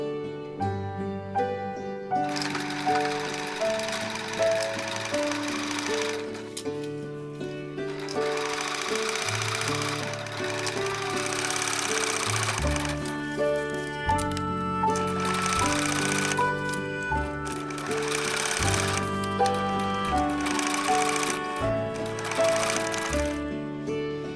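A sewing machine stitches the collar and facing of a dress bodice in several bursts of rapid, clattering runs with short pauses between them, set against steady background music.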